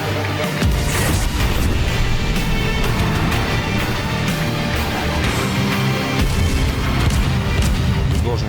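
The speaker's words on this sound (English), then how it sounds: "And then comes the battle. The shooting starts." Naval gunfire from the battleship USS New Jersey in World of Warships: a dense, loud barrage of heavy booms and rumbling blasts, with a voice talking over the din.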